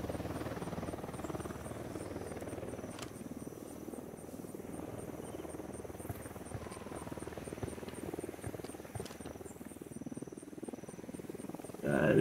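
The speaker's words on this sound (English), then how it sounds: "That's a Unidad helicopter" A Unidad helicopter in the video game Ghost Recon Wildlands, its steady rotor drone humming continuously at a moderate distance, with a faint high electronic tone above it and no voices.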